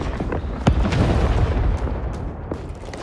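Heavy booming blasts from mortar fire in the Winter War game Talvisota, with one sharp explosion standing out among dense rumbling detonations and battlefield noise that continue throughout.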